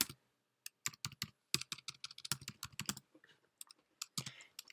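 Someone types on a computer keyboard in close, crisp bursts of keystrokes, separated by short silent gaps, with no other sound around them.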